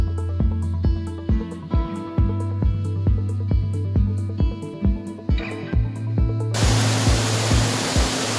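Bamni Falls on Ajodhya Hill in Purulia pours down as a steady broadband rush, arriving only near the end after a stretch of rhythmic, tonal music with regular beats.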